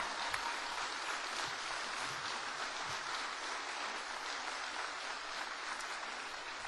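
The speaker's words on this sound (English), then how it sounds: "I want everybody to give them a standing applaud." At a 2012 veterans' concert, a crowd gives a standing ovation: dense, steady applause that carries on evenly throughout, fairly distant and without voices over it.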